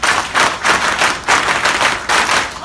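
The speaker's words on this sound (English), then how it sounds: "we have a round of Elken applause" A conference audience claps in rhythmic unison, loud bursts of synchronized clapping pulsing in regular waves, nearly one group clap cycle after another.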